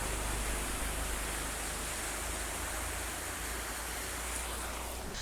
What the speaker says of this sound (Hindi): और इस तरफ में ये पानी का झरना है।